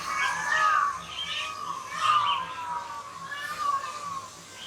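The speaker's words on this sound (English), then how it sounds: "There was a loud bang, and all the birds started hollering." A crowd of many bird species calls loudly in the Kuala Lumpur Bird Park, with shrill overlapping squawks and chirps that swell in bursts and carry on continuously through the outdoor aviary air.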